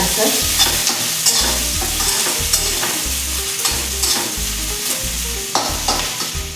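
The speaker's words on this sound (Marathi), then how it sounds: "हिंग कांदा थोडासा परतून घ्यायचा" Onion and asafoetida sautéing in hot oil, a continuous sizzle with repeated scraping strokes of a spoon stirring in the pan at a steady rhythm, close and fairly loud.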